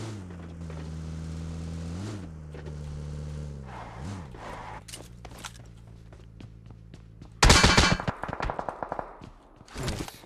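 A burst of gunfire from a PUBG firefight on Erangel crackles in a sharp cluster of loud shots, preceded by a droning vehicle engine and followed by a few scattered reports.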